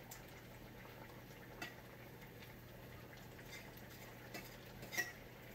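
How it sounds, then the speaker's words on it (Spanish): Homemade tomato sauce simmers in a pot with a steady, faint bubbling hiss and a few soft clinks from the pot, quiet and continuous with no talk. "estoy hirviendo la salsita que me preparé ayer para los panes"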